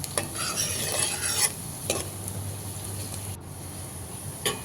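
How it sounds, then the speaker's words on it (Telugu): Onion frying in oil with fenugreek seeds for a chicken gravy, a steady close sizzle broken by scraping stirs of a spoon against the pan, with no talking. "బాగా ఫ్రై అవనిద్దాం, బాగా బ్రౌన్ కలర్ వచ్చే వరకు చూడండి"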